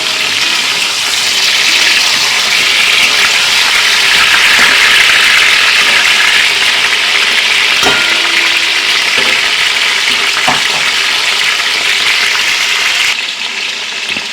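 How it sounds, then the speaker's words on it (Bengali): Pointed gourd pieces frying in hot mustard oil for a Bengali vegetarian dish, giving a steady, loud, dense sizzle that runs unbroken with a few faint clicks and drops away abruptly near the end. "পটলগুলো এবার ভাজা হবে"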